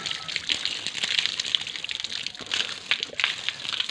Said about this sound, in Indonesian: Bentar gua cuci muka.